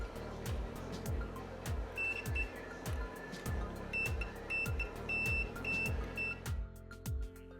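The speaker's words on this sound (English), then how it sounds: "When I hear a beep, I know I've matched the two sections together." A multimeter's continuity tester gives short, clean electronic beeps, several in a row, while its probes touch the terminals of a guitar footswitch jack. Under the beeps run steady background noise and repeated low thumps.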